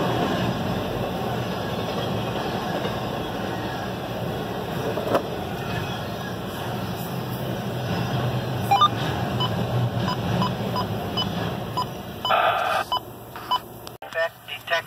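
A CSX freight train, the westbound Q279, passes Sanford Road at milepost 388 with a loud, steady rolling rumble throughout; electronic beeps and radio chatter come in toward the end.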